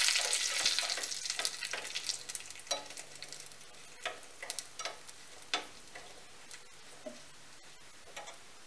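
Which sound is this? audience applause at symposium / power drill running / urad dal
urad dal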